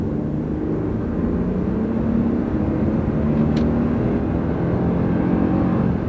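A Toyota Tundra accelerating hard in manually selected 3rd gear, its engine a loud, steady low drone that holds without breaks for the whole stretch, with no voices.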